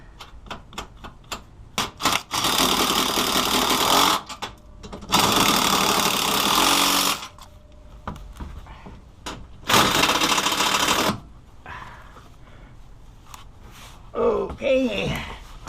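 Sway bar bushing bracket bolts on a vehicle are tightened with a power tool. Loud, close, buzzing bursts of two to three seconds repeat three times, separated by clicks, knocks and quieter handling noise.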